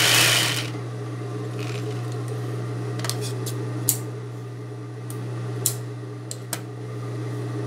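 Sewing machine stitching the hem of a scarf: a steady motor hum runs throughout, opening with a brief louder burst, with a few small clicks and taps scattered over the continuous whir.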